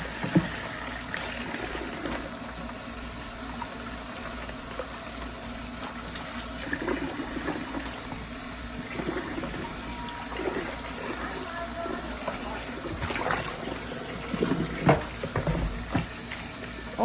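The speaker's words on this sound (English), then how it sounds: "Go ahead and turn that water on." A kitchen tap runs steadily with a constant hissing rush of water, with faint clatter and soft background voices now and then.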